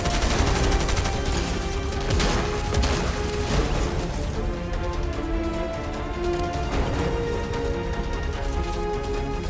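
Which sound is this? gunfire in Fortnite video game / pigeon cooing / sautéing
gunfire in Fortnite video game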